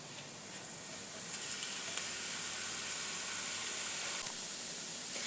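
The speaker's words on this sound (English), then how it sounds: "we just want to saute all of these until they become translucent" Peppers and onions sauté in a hot pan for a confetti chicken wrap, giving a steady, close, even sizzle that holds at one level throughout, with no talking over it.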